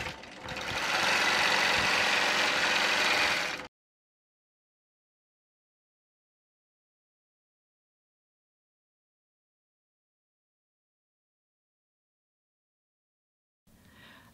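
A quilting machine stitches through a quilt with a loud, steady mechanical whir for about four seconds, then cuts off into silence until a faint sound returns at the very end.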